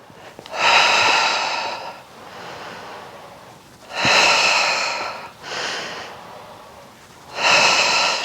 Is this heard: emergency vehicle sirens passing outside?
no